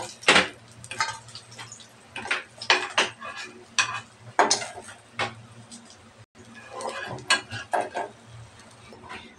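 Fried koi fish are lifted from a pan into a bowl, with repeated close clinks, taps and scrapes of a utensil against metal in an uneven rhythm.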